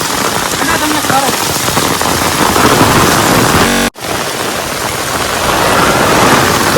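Very heavy rain pounding a street in Gariyadhar, a loud, dense, steady roar of downpour with a brief dropout near the middle, faint voice traces underneath.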